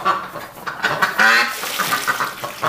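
Loud, close duck quacks sound in quick overlapping calls inside an animal hospital, several birds honking and quacking together.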